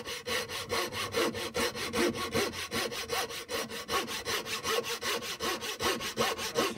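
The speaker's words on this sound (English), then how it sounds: "then with the coping saw go from either angle and make sure you keep it horizontal or level, and then just start nice and slowly." Coping saw cutting through wood held in a vise, a steady rhythmic rasp of even back-and-forth strokes, close and clear with no talking.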